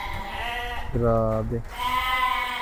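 A sheep bleats once in a loud, drawn-out cry on a goat and sheep farm, with people talking just before and after it.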